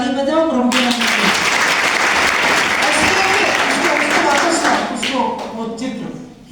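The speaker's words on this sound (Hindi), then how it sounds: "ताली बजाओ प्रभु के नाम पे।" A church congregation at a Sunday fellowship service claps loudly and densely for several seconds, with a voice speaking at the start and talking again as the applause fades.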